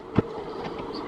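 A metro train at a Chinese airport passes briefly, heard as a short faint rumble with a single sharp clack over a low, steady hum.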